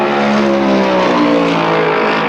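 Stock cars roaring at the 1972 Southern 500 at Darlington, loud sustained engine drone with shifting harmonic pitches as cars pass, no voices.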